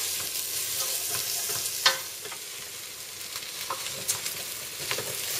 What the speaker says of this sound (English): So I'm just going to give it a good stir and give it a coating of all the flavours that are in this pan now.